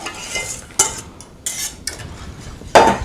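A whisk scrapes and taps against a pot in a few sharp strokes as custard cooks, with soft stirring swishes between them and no talking.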